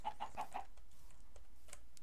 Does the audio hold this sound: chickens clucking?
yes